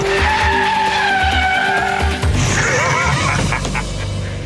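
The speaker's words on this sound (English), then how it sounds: "How far the car slides is determined by how long you hold the park brake on." A car slides on a skid pan during a relay race challenge, held in the slide by its handbrake around figure-8 cones, with a loud continuous tyre squeal and engine note that shift midway and carry on near the microphone.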